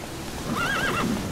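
Roach, Geralt's horse in The Witcher 3 video game, lets out a single clear, rising and falling whinny lasting under a second, fairly close, over a soft background bed.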